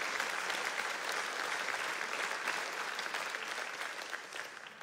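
A fundraiser audience claps in a steady, fairly distant burst of applause that fades slightly toward the end.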